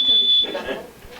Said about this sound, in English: Or smoke detector